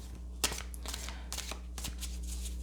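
A deck of tarot cards is shuffled up close in a quick series of riffling, flapping bursts with short pauses between them, over a low steady hum.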